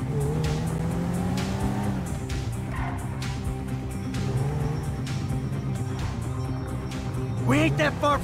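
In GTA 5, a car engine revs and drones steadily up close, rising and falling in pitch, ending in a sharp tire squeal, with voices heard at times.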